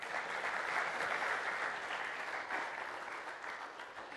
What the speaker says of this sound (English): Can we give a round of applause for Gwen?